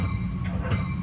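A Metra commuter train on the Burlington Northern Santa Fe line into Chicago rumbles along the rails, a loud, close, steady low roar with faint wheel clicks, heard from the head end.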